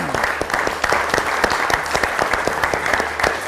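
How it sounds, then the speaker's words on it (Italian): An audience applauds in memory of a deceased man, a steady, fairly close round of clapping with distinct individual hand claps audible in a brisk, irregular rhythm throughout. "Facciamo un applauso a Luciano Lunazzi."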